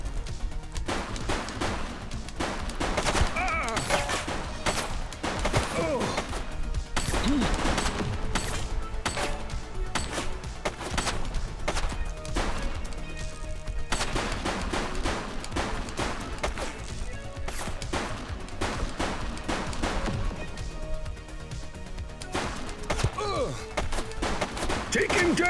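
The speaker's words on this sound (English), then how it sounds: "She's shooting!" Gunfire rings out in The Precinct, a police video game, as dense rapid volleys of shots and bursts pound steadily throughout, loud and close, with voices shouting under the shooting.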